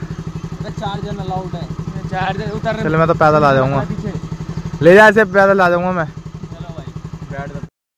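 A motorcycle engine idles and runs with a steady low throb through the whole stretch, while several people talk loudly over it in Hindi.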